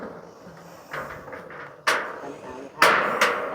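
Nails are hammered into the roof of a small hut, with three or four sharp, loud strikes spaced about a second apart over quiet background rustling.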